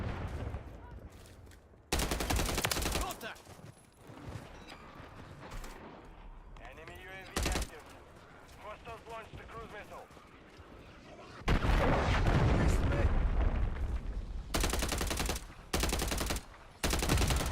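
Bursts of gunfire in a team deathmatch video game break out in loud blocks, with a short burst early, heavier sustained firing in the second half, and someone speaking briefly between them.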